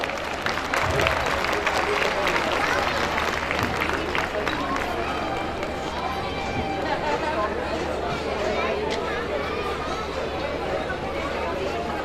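Applause for award-winning students at a school annual day celebration, a sustained wash of crowd clapping mixed with steady audience chatter, filling the whole stretch at an even level.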